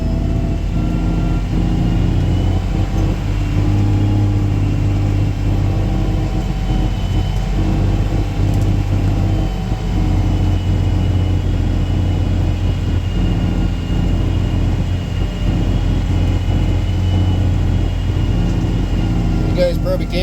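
A machine pulling a hopper of dirt at a new work site hums and rumbles steadily for the whole stretch, with a loud, close, low drone and a person talking now and then.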